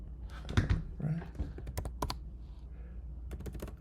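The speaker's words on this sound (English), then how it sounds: "Type in our password." A password is typed on a computer keyboard in a quick, close cluster of key clicks, with a few sharper taps and a voice speaking partway through.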